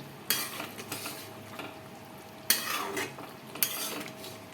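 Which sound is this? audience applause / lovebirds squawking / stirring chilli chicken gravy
stirring chilli chicken gravy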